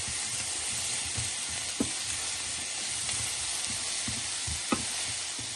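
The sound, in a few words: dal simmering and vegetables cooking in pan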